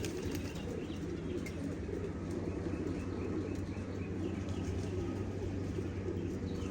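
Pigeons' wings flap and flutter as a flock flushed by a hawk takes off, amid soft cooing over a steady low background rumble, with faint chirps scattered throughout.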